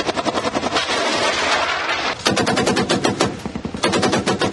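Gunfire rattles across the border in loud, rapid bursts of automatic fire. The dense staccato volleys run close together, pause briefly, then resume just as fast and close.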